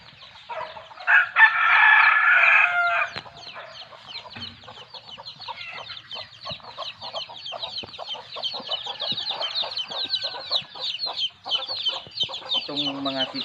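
A loud rooster crows once, followed by continuous clucking and chattering of many chickens close by.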